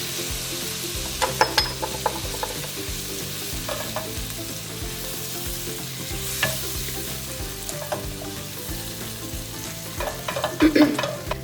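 Tomatoes fry in hot oil in a pan for an Indian red lentil soup (masoor dal), a continuous close sizzle with clacks of a spoon stirring and scraping at intervals, busiest near the end.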